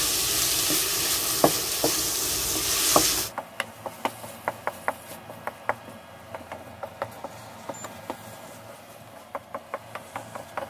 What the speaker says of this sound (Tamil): தக்காளியை போட்டாச்சு, இன்னமேல் நல்லா வதக்கணும் தக்காளியா சரிங்களா